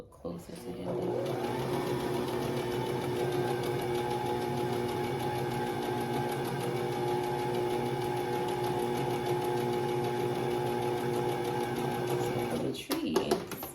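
A Brother ST371HD sewing machine stitches steadily from start to finish, a loud continuous mechanical hum and needle whir that cuts off just before the end.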